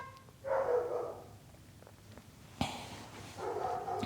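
A house dog barks in two loud bursts, one early and one after a sharp thump, as a delivery driver pulls up at the neighbor's house; faint household noise fills the gaps.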